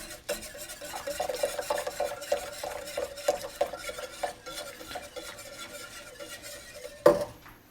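Heavy cream is stirred into thickened homemade eggnog with a utensil scraping the pot in quick repetitive strokes, a rhythmic rasping close by, ending with a louder clank.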